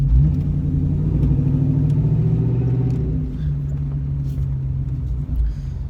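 A 2001 Ford Mustang GT New Edge V8 with Flowmaster exhaust rumbles while driving, a deep steady burble that eases off briefly midway before settling back into a throaty cruise, heard from inside the car with windows down.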